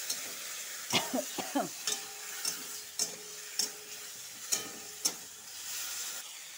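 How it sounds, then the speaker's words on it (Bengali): Soft, steady frying hiss of spice paste in a pan, broken by several sharp clinks and scraping stirs at irregular intervals. "মশলাটা ভাজা হয়ে গেছে"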